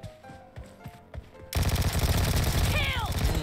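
Rapid automatic fire from a Vector submachine gun in PUBG Mobile. A dense, loud, continuous burst follows a moment of quieter voices and scattered sounds.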